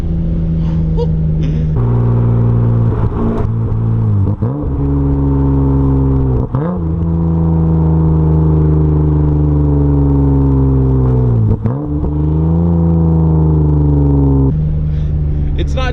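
A Toyota Supra fitted with an HKS exhaust pulls hard through the gears, its loud, steady engine drone broken by quick downshift blips and rising revs, heard from inside the cabin.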